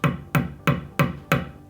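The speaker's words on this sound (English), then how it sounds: "take a little hammer or anything that you can just slightly tap it in" Small hammer tapping a scope stop pin into an 11mm dovetail rail on an airgun, five sharp evenly spaced metallic taps, close and clear with no talking.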